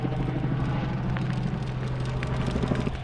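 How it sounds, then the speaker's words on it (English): A helicopter flying directly overhead beside Lake Siskiyou in California, heard as a steady low rotor drone and rumble, fairly loud and continuous, with wind noise mixed in. "There's a helicopter flying right above us."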